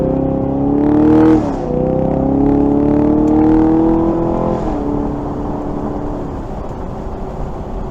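A 2023 Chevrolet Camaro LT1 RS convertible with a performance exhaust drones steadily while driving, its deep engine note rising and dipping through shifts, loud and close with no talk.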